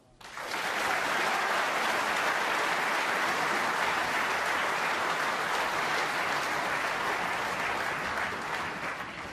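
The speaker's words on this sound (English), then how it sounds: "The applause is for a steal from Stuart Bingham" Applause fills a snooker arena at the World Championship, Ronnie O'Sullivan against Gary Wilson, as a crowd claps loudly and steadily for nearly nine seconds after a quiet start.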